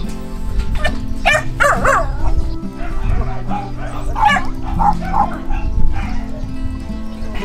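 Several rescued dogs, including a disabled one, bark and yip in quick, overlapping bursts, close and fairly loud, over a low rumbling background.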